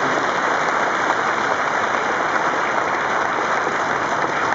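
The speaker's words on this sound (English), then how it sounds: "Please give Mike a really round of applause" Steady, dense applause from a launch-event crowd for Mike Gascoigne at the Lotus F1 car launch, an even wash of many hands clapping for the whole stretch with no voices above it.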